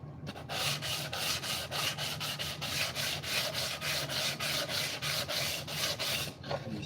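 Hand sanding of a light housing with 220 grit sandpaper gives close, rhythmic scratchy rubbing strokes, roughly two per second, repeating evenly without pause.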